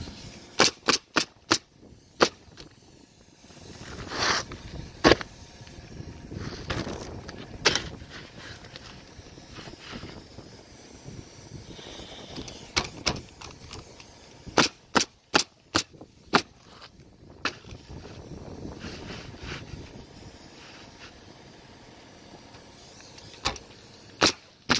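A roofing nail gun sets shingles along a closed valley on a roof. It gives close, sharp snapping shots, some single and some in quick clusters, with quieter handling noise between them and no talking.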